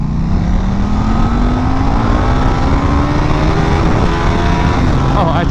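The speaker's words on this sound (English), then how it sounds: "I tried downshifting instead." A KTM RC8 R sport motorcycle engine drones loudly and steadily under wind rush, its pitch climbing gradually before shifting near the end as the rider downshifts.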